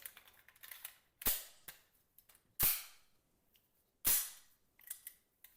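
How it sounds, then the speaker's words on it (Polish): A VIS wz. 35 pistol's action is cycled and dry-fired, giving three sharp, loud metallic snaps spaced about a second and a half apart, with lighter clicks of the mechanism between them, close up and without talk. "odciągamy żertkę, wkładamy łącznik zamka, zrzucamy haczyk, broń działa"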